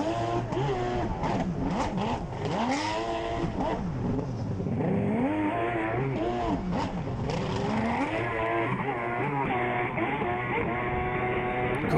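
A racing jet ski heard on board during a Jetcross pro tour round at La Seyne-sur-Mer, its engine screaming close and loud with constant rising and falling revs as the rider works the throttle.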